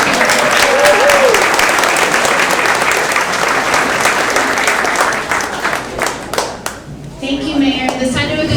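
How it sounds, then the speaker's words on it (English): A crowd at the mayor's neighborhood coffee hour in Boston bursts into loud, sustained applause for Commissioner Shea, many hands clapping densely and evenly before tapering off, with a voice talking over the tail end. "Round of applause for Commissioner Shea."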